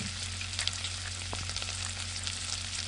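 Three chopped onions frying in oil in a pan, giving a steady close sizzle with a couple of faint stirring knocks and no voices.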